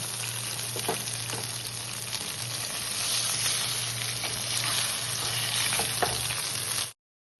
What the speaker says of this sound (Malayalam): ഇനി ബാക്കി കൂടി നമുക്ക് ഇതുപോലെ ഫ്രൈ ചെയ്തെടുക്കാം